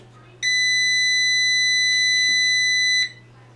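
A single long electronic beep from a damaged solar inverter powering up, steady and piercing, lasting a few seconds over a low background hum, with a faint click midway.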